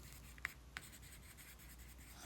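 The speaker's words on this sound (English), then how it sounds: "I'm just making random marks on the paper" A Stabilo 8046 water-soluble aquarelle pencil scratches across paper close up, making a soft continuous scribbling rub with two brief sharper ticks near the start, faint and without speech.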